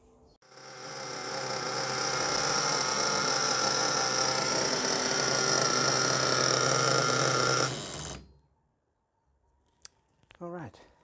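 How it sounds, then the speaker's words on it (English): An HSP Nitro Pro 1/8 monster truck's 21CXP 3.5cc PT21-P3 nitro engine runs at a steady, loud, high buzzing whine for about seven seconds, then cuts off, leaving a few faint clicks. "the engine is running okay"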